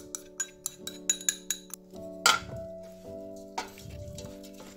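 Metal spatula stirring and scraping a meat and vegetable filling in a pan on the stove, for a beetroot-based vegetarian tiết canh: light rhythmic clinks and taps over a steady low hum, with no speech.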